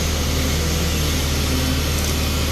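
A 30 kVA Kirloskar diesel generator runs steadily under load as it is being applied, a continuous loud low engine drone with a broadband roar and no pauses throughout.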